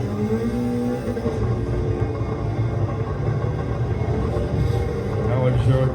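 A race car engine at Spa roars steadily and up close, with a dense mechanical rumble as it works through its gears. Talk runs underneath the engine noise.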